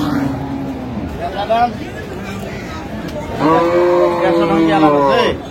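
Dairy cows and calves moo loudly and close by at a cattle market in Dinajpur, long drawn-out lowing calls rising over a busy crowd of voices and background chatter.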